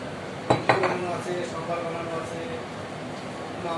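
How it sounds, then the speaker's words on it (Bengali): A metal kadai knocks twice on a gas stove in a home kitchen, two sharp clinks close together, followed by faint clatter while someone talks over it. "গ্যাসে এবার কড়াইটা বসিয়ে দিয়েছি, কড়াইটা গরম হয়ে গেছে, সর্ষের তেল দিয়ে দিচ্ছি।"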